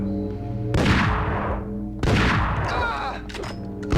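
Gunfire in the Max Payne video game: two heavy bursts of shots, each a sharp loud blast that decays with ringing echoes, the second followed by quicker cracks and clatter over a low droning background.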